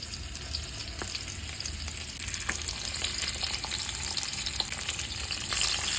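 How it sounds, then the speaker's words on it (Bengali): Hilsa fish pieces rubbed with salt and turmeric fry in oil with a continuous, moderately loud sizzle. Sharp crackles and spits pop through it irregularly, and no one speaks. "এবারে না একটু কড়া করে ভেজে নেবো"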